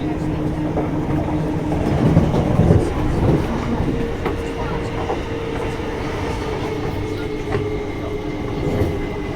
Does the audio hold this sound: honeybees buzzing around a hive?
no